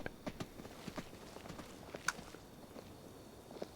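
Footsteps in the video game Skyrim with a hoof-like clip-clop: a quiet, steady run of soft knocks, faint against a low background hum, with no talking over them.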